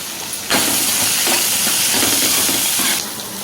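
Onions, green chillies and curry leaves hit hot oil with a sudden loud sizzle that holds steady and hissing for about two and a half seconds, then eases off slightly.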